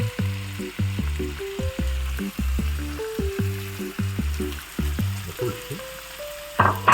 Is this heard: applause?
no